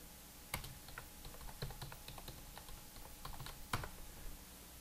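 Someone types an address into a computer keyboard, with keystrokes coming in quick irregular bursts and a few sharper key hits. The sound is close and fairly quiet, with no talking.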